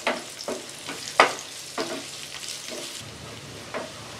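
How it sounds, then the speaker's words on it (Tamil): Sliced onion for a tomato coconut chutney sizzles in a pan, with a soft steady fry punctuated by several sharp scraping stirs at irregular intervals. "நீல வாக்குல கட் பண்ண ஒரு பெரிய வெங்காயம், இதை நல்லா லைட்டாக வதக்கி விட்டுக்கலாம்."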